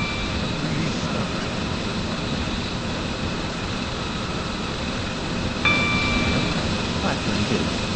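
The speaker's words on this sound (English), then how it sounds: "The train now approaching platform 2 does not stop here." A Class 801 express train in the Roblox game SCR runs through a station without stopping, a steady rumbling roar with a brief high tone near the end.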